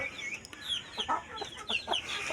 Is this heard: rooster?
yes